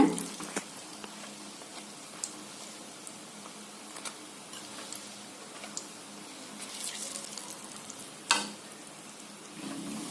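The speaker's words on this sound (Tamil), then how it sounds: "கொஞ்சம் பெரட்டி விடலாங்க ஒவ்வொன்றா ரெண்டு பக்கம் நல்லா வேகணுங்க" Raw banana bonda fritters sizzle steadily in hot oil, with soft clinks and scraping as they are turned one by one; no talking over the frying.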